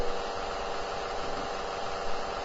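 Engine held steady at about 5,700 RPM after an ignition coil timing adjustment, a dense, continuous buzzing drone heard up close with slight pulsing vibration and no talk.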